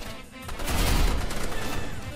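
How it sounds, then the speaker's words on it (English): Explosive rocket launcher blasts in the online shooter game Roblox Rivals, a dense continuous barrage of booming gunfire that swells loud around the middle and stays heavy to the end, with no voices. "He's using rocket launcher. Oh no. I've been shot by 2 rocket launchers."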